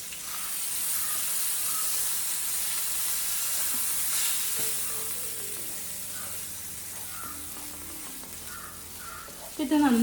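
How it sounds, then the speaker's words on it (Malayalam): Battered chicken shallow frying in oil makes a steady, fairly loud sizzle throughout, with faint background sounds and a brief clatter at the end. "ബാറ്റർ ചെയ്ത് വെച്ച ചിക്കന് ഇതിലോട്ട് ഇട്ടിട്ട് ഒന്ന് ഷാലോ ഫ്രൈ ചെയ്തെടുക്കാം"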